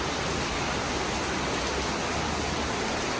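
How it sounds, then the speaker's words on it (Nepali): Heavy rain mixed with falling hailstones makes a loud, constant, dense roar that fills the whole short stretch with no break and no voices. "कत्रो ठुलो पानी प्लस असिना परेको।"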